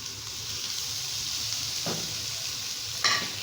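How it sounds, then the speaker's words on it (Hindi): Onion fries in oil with ginger, garlic, green chillies and tomatoes, giving a steady close sizzle with a couple of brief scrapes or clatters of ingredients going in, no voices. "अब मैं इसके अंदर अदरक, लहसुन, हरी मिर्चें और टमाटर, ये सारी चीज़ें मैं एक दफ़ा में डाल दूँगी इसके अंदर सारी।"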